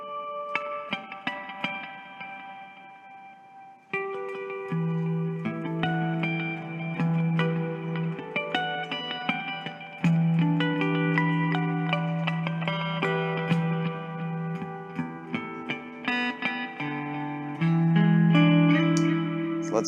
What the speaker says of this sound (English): This is the reverb plus delay.